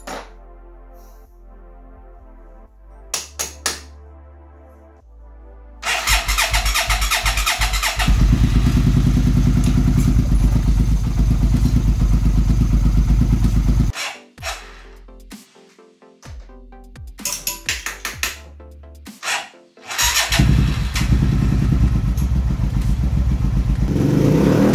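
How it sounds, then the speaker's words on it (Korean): A neglected Hyosung Comet 650 motorcycle cranks in short bursts, then its engine catches and runs loud and close with a rough, throbbing idle, drops out briefly, and restarts into steady running. "드디어 시동 걸었습니다."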